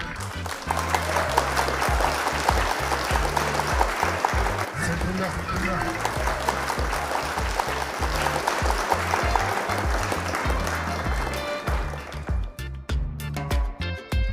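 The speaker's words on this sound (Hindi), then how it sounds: "उनका तालियों से इस्तकबाल करें" Audience applause at a racing pigeon prize distribution ceremony in Pakistan. Steady, dense clapping continues at moderate level beneath a loud, amplified voice and booming low background music, then breaks into scattered separate claps at the end.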